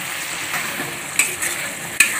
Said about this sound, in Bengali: এই যে মশলাটা ভালো করে কষিয়ে নিচ্ছি